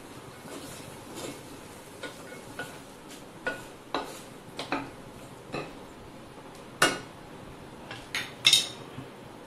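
Vegetables and daliya (broken wheat) being stirred and sautéed in a pot, with scattered scraping clinks of a spoon against metal and a soft sizzle underneath, fairly quiet and close, with no talking.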